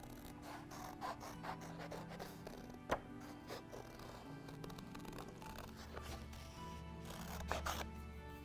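Scissors snipping through paper to cut out shapes for an ox paper lantern, steady close rasping cuts in an ongoing run with no talking.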